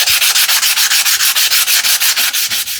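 Rhythmic strokes of hand sanding on wood to smooth out undulations, a steady back-and-forth scratching repeated about six times a second, close and loud.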